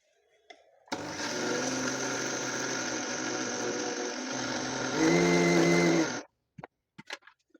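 A kitchen mixer grinder whirs steadily for about five seconds while grinding homemade drumstick leaf and lentil podi. Near the end the pitch lifts and the tone brightens before the motor cuts off, leaving a few light clicks.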